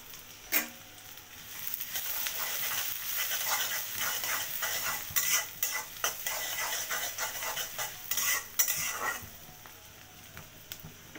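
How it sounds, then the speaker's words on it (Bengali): Onions fry in very hot oil, giving a continuous close sizzle with frequent stirring scrapes and clinks from a spoon against the pan, and no talking. "তেলটা অলরেডি অনেক গরম হয়ে গিয়েছে, তো পেঁয়াজ দিয়ে দিচ্ছি।"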